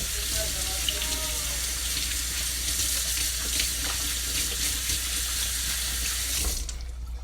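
Kitchen tap running into a sink, a steady close hiss of flowing water that continues evenly throughout before cutting off near the end.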